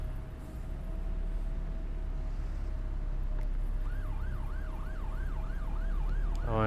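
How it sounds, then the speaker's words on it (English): A modded ambulance siren wails on an emergency vehicle in a video game, its rising and falling tone starting midway and looping steadily over a constant low engine rumble. "I'm so glad I changed the siren sounds on my emergency vehicles"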